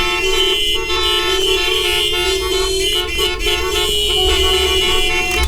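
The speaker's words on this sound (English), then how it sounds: "Traffic jam with many car horns." Stock sound effect of a city traffic jam, with many car horns honking continuously and overlapping in a dense, loud chorus over a steady engine rumble.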